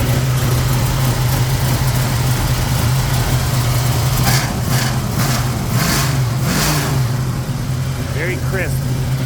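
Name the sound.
1970 Cuda 440 engine idling after starting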